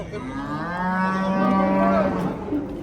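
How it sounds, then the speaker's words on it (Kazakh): A hornless cow moos once, a long, loud, low bellow that rises and holds before fading, heard close by with no talking. "Осы тоқал сиыр."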